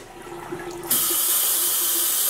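Tap water gushes steadily over dyed acrylic or wool yarn being rinsed, starting abruptly after a short quiet stretch and then running loud and continuous, with no voices.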